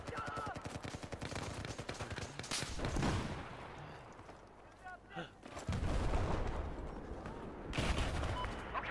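Rapid gunfire in Battlefield 4, a dense burst of automatic fire giving way to scattered shots and blasts, loud and close, with a player's brief shout over it.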